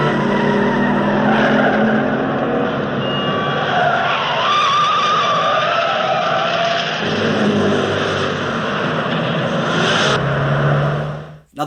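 Tires squeal and skid through a car chase in the 1979 film The China Syndrome, with loud, continuous engine roar and screeching that swells and shifts across the whole stretch, then cuts off abruptly at the end.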